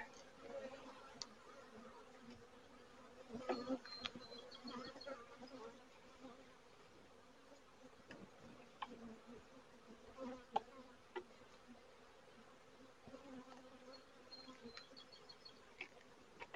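Honeybees buzzing steadily around an opened hive during a brood-frame inspection, a dense continuous drone with occasional louder passes of individual bees close by, with no talking.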